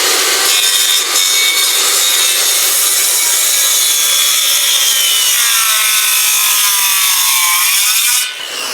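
A Japanese pull saw cuts through a timber tenon for a timber frame, with steady, close rasping strokes that run continuously and then stop just before the end. No one speaks.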